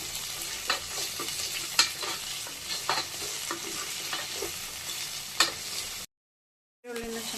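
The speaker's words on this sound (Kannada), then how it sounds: "ಈರುಳ್ಳಿನ ಚೆನ್ನಾಗಿ ಫ್ರೈ ಆಗಿದೆ" Onions fry and sizzle in a pan for ridge gourd chutney, with a steady hiss broken by the scrape and clink of a spoon stirring, close and fairly loud, ending in a brief cut of silence.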